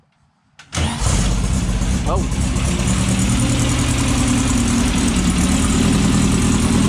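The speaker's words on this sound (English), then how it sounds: "motor's hooked up. Let's see if she fires. First time in the car." A buggy engine, newly rebuilt and fired for the first time, cranks and catches after a short silence, then settles into a steady, loud idle with a low rumbling drone; a voice briefly exclaims.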